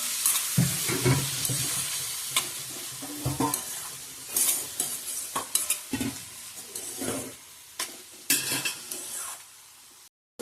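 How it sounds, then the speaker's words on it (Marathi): Onions sizzle in a hot pan while being stirred, with a continuous frying hiss broken by repeated scraping and clinking strokes of a utensil against the pan, close up and without talk. "कांदे आपले मेन भाजा करूया, असे घालून घेऊया आपण."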